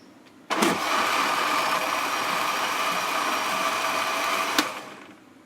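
Kitchen blender grinding tomato, green chili and onion into a paste: the motor kicks in abruptly, whirs at a steady loud pitch for about four seconds, then cuts off and winds down.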